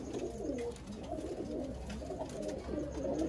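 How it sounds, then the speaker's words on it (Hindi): Mixed pigeons coo softly and continuously, with overlapping low rolling calls from several birds at a moderate distance and quiet background noise. "ये रिजल्ट वाले सारे मिक्स कबूतर हैं"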